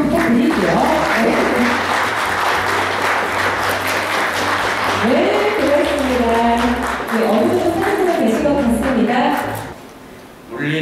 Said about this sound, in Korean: 여러분 여기서 박수 좀 부탁드릴게요.